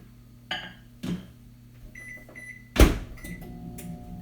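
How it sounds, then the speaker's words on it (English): A microwave oven melting butter runs with a steady low hum, broken by door clunks and several short beeps, quiet and close by. "you heat this in the microwave and you melt it"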